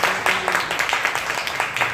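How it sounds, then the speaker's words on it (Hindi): Brief burst of audience applause at a live hosted session, steady moderately loud clapping from a crowd with no voices. "एक जोरदार ताली होना चाहिए अपने आप को दोस्तों"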